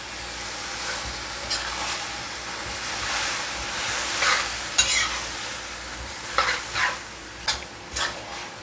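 Stir-fry sizzling steadily in a pan with sweet soy sauce, sugar, MSG, Royco seasoning and sauce added, a utensil scraping and clattering through it in several sharp bursts over constant frying hiss.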